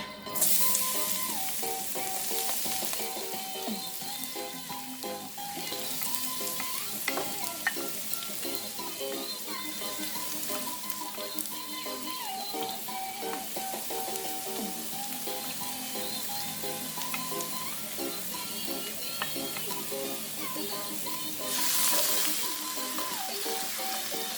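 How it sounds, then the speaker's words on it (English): Garlic frying in hot olive oil in a pan for a shrimp and cauliflower stir-fry, a steady close sizzle with occasional scraping stirs and clinks over a long, continuous stretch, with no talking. "I'm going to add my garlic"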